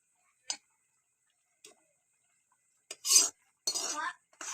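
Fish and taro gently stirred in a pot, heard as a few sparse, soft spoon clicks and taps, then a short run of closer scraping and clinking near the end in an otherwise quiet room.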